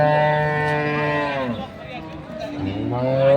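A dairy cow at a cattle market in Ambari, Dinajpur, mooing loudly and close, a long drawn-out low call followed by a second shorter moo, with voices in the background.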